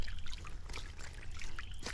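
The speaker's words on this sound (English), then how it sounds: "there is a stream leading off of the pool" A stream running off a forest pool trickles and babbles softly, with small splashes and gurgles over a steady wash of flowing water, close and continuous.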